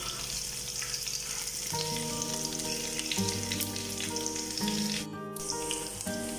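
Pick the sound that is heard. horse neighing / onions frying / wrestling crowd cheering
onions frying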